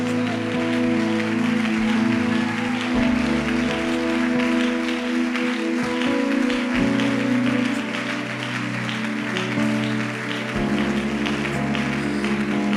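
A church congregation at an evangelical worship service applauds in a steady, dense patter, layered over sustained organ or keyboard chords that fill the background for the whole stretch.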